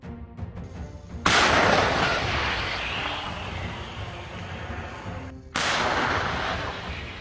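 Two heavy blasts hit a Russian ammunition depot and artillery position after a Ukrainian strike, each a sudden loud boom that rolls off into a long rumbling decay, the second arriving a few seconds after the first.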